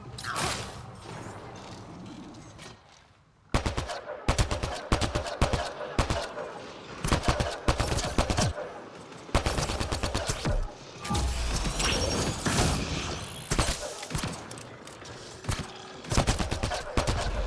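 Turret gunfire in the Mass Effect Andromeda video game, with rapid bursts of shots and crashing impacts repeating across the clip after a quieter opening, loud and close with no talk over it.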